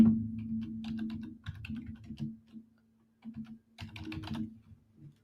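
Typing on a computer keyboard comes through as bursts of quick, light key clicks, fairly close, separated by short pauses, with a low steady hum underneath.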